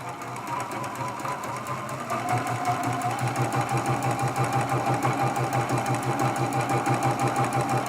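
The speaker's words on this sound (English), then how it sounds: "we're going to sew this from edge to edge with our 1/4 inch seam" A sewing machine stitches a quarter-inch seam along quilt strips for a Churn Dash block ornament, running slowly at first and then settling into a steady, close rapid clatter with no talk.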